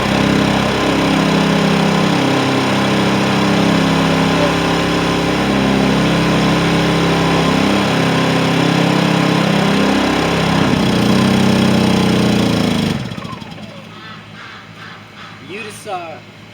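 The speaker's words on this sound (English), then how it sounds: "You decide if these two generators are worth the money, because they are just as loud" A loud, steady drone of two Honda portable generators runs continuously, then cuts off abruptly near the end, leaving quieter ambient sounds and a faint quack.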